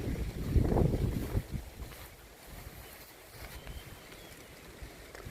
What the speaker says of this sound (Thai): บรรยากาศลมว่อยๆครับ หนาหนาวกำลังมาเด้